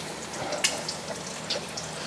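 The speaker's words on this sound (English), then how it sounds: "I'm making eggs and bacon" Bacon frying in a pan gives a steady, close crackle with a few sharper pops standing out, and no voices over it.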